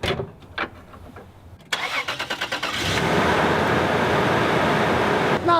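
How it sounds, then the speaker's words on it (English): High-mileage Toyota 4Runner engine starting: a few faint clicks, then a short cranking chatter catches into a loud, steady, close idle rumble that runs to the end. "Listen to the engine."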